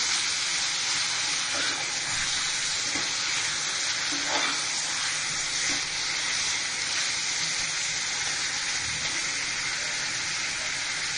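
Mutton pieces fry in a pan while being mixed, giving a steady, close sizzle with soft scraping stirs throughout and no voices.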